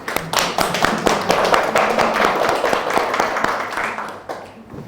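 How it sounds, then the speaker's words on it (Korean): A church congregation bursts into applause during a teaching session, a dense burst of many hands clapping that stays loud and fairly even before thinning out near the end. "박수 한번 받아야 돼, 이런 거."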